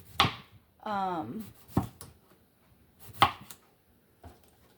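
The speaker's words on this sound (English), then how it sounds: "I'm just going to slice mine into rings like this" A kitchen knife slices vegetables into rings for pickles on a cutting board, giving a few separate sharp chops spaced irregularly, close and clear, with brief quiet gaps between them.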